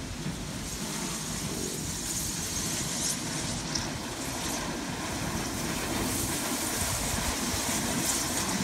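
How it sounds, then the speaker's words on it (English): A strong, continuous low roar of Hurricane Maria's wind buffets the microphone, rumbling steadily with a faint hiss above, no voices heard. "gust coming up now."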